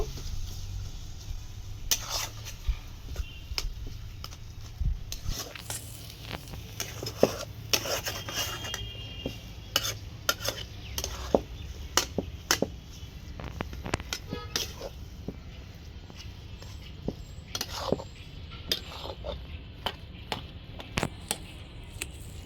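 Coriander leaves being mixed into mashed potato by hand, a close, continuous rubbing and squishing with repeated soft scraping strokes and light knocks against the bowl.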